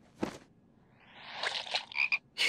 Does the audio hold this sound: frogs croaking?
yes